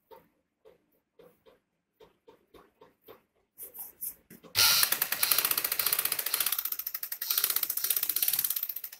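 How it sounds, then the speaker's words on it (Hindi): A sewing machine stitching a fabric strip for a sleeve: a few isolated needle clicks first, then a steady, loud, rapid mechanical whir-and-tick run of stitching. "इसके ऊपर हम एक सिलाई लगा लेंगे"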